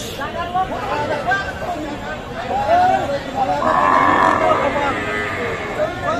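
A cow moos once in a drawn-out call at a busy rural cattle market, the Kaharol haat, where cows are sold with their calves. Men chatter and haggle over prices close by throughout.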